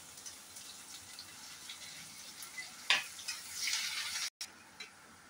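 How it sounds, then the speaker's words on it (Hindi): Garlic and green chilies sizzle in a hot pan, with a steady frying hiss and stirring scrapes. A sharp sizzling surge comes midway, then a brief drop and a softer hiss, all close and without speech. "अब ये लहसुन और हरी मिर्च दोनों डाल देती हूँ।"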